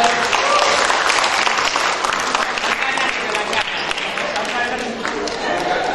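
An audience at a speaker masterclass breaks into loud, sustained applause, dense clapping filling the room steadily throughout, with crowd voices mixed in.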